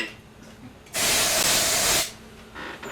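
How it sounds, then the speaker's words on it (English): Aerosol can sprayed in one steady burst of about a second, loud and close, with a quiet room before and after. "pass me some spray."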